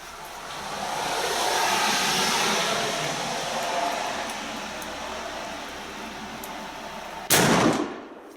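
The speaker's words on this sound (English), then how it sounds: "So I hope you liked that little shooting session" A single sharp, loud gunshot from an 1829 T bis artillery musketoon, a muzzle-loading black-powder firearm, cracks out late after several seconds of steady outdoor wind and ambient noise, with a brief decaying tail.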